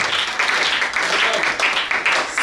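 Church congregation clapping and cheering for Jesus during a sermon, dense, loud applause with ragged bursts and a few raised voices mixed into the clatter of hands.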